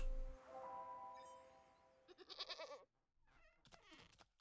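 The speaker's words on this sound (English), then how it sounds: "There's a goat in my house." A goat bleats inside a house in the video game Wytchwood, a few wavering, nasal bleats in the middle of the clip against quiet game music, with a shorter bleat near the end.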